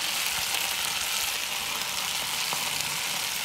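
Asparagus hitting a pan of frying tomatoes for a curry, giving a steady, loud, close hiss of sizzling oil that carries on without a break.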